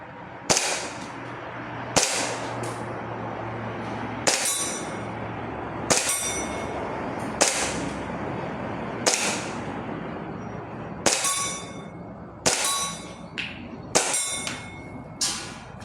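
Sharp BB pistol shots from an SRC Springfield Armory 1911-A1 V10 Ultra Compact ring out about ten times at a steady pace, each a loud snap with a metallic clang, fired at a target roughly ten meters away.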